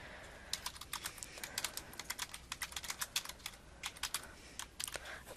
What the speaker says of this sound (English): So in the bar labeled question, we can type